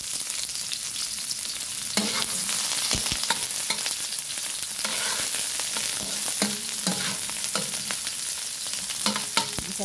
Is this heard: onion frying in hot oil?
yes